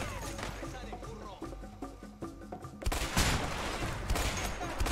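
Enemies open up with automatic weapons in A Way Out, a rapid burst of gunfire that swells into a loud fusillade partway through, over game music and effects.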